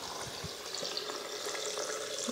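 Water pours steadily into a blender jar holding soaked chickpeas, a continuous hissing, splashing wash at low volume with no talk over it.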